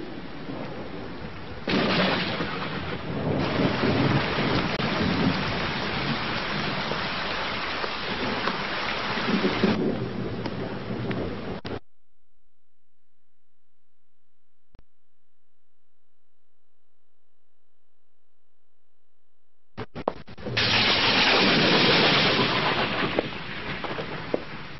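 Heavy rain pouring at night, a dense steady roar with a low rumble that may be thunder, loud and close; it cuts to near silence midway, then the downpour returns.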